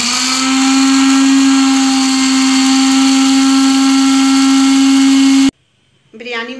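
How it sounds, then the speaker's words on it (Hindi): A blender grinds biryani masala spices with red chilli, turmeric and salt in a steady, loud, high-pitched whir that cuts off abruptly, followed by someone talking. "इसको अच्छे तरीके से ब्लेंड कर लेंगे"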